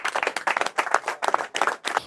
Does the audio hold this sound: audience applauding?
yes